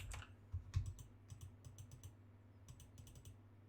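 Soft laptop keyboard typing in the video game Marie's Room, a quiet run of light key taps in uneven bursts over a low steady hum.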